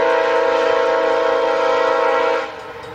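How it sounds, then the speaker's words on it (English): A loud, sustained train horn blares nearby from an old, slow-rolling locomotive, holding steady for a couple of seconds before cutting off and leaving a fainter rumble. "That horn is really loud, so beware."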